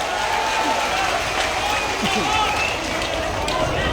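A large crowd at an outdoor political rally in Barwal keeps up steady, dense clapping and cheering from start to end, with voices mixed into the roar.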